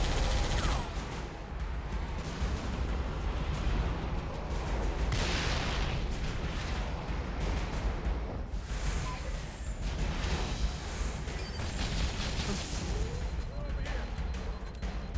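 Dense, continuous gunfire and explosions rage through a Halo battle, loud and close with heavy low rumble, while voices call out over the combat noise.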